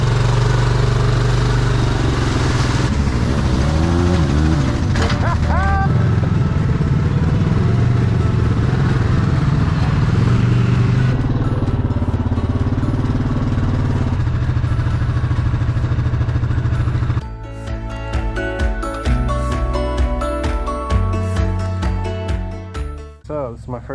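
A Yamaha Grizzly 700 ATV engine runs steadily on a trail, a loud mid-pitched drone with clattering and a shift in tone partway through, ending in rougher, pulsing revs.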